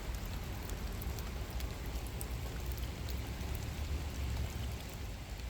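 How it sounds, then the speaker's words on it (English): Steady rain patters down beside a fishing pool, a dense unbroken hiss with scattered drop ticks, even in loudness from start to finish and with no voices. "Go away, rain. We don't like rain."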